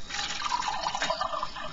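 Water pouring into a bucket in the video game Lakeview Cabin, a steady close bubbling fill that runs without pause for under two seconds.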